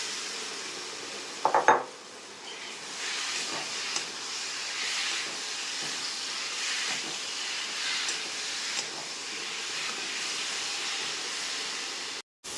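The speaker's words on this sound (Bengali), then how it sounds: "এবার আমি আলুগুলো দিয়ে দিচ্ছি।" Potatoes drop into a pan of sizzling spice masala for a Bengali egg recipe with potol and potato, giving a brief clatter and then a steady hiss of frying that stays fairly quiet and continuous, with no voices.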